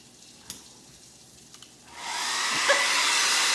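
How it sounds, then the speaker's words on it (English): A handheld blow dryer, used during a chalk-paint craft project on an old cupboard door, switches on after a quiet stretch with a few small clicks and then blows as a loud, steady whooshing whir until the end. "My blow dryer stopped working."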